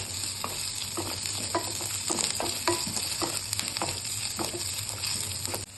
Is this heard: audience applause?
no